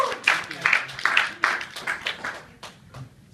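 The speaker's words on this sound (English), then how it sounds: "give him a round of applause" Audience applause breaks out in a room at a motivational seminar, a burst of clapping in uneven waves that fades over a few seconds, mixed with brief voices.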